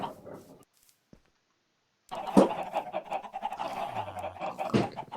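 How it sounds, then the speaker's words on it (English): Chickens cluck in modded Minecraft, giving short, honking fowl calls. A brief stretch of noise is followed by a silent gap, and then a louder run of clucks and squawks, fairly close. "Chickens"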